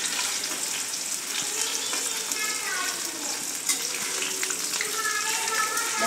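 Garlic sizzles in hot oil in a pan, a steady crackling hiss with occasional soft stirring scrapes, as it fries to light brown.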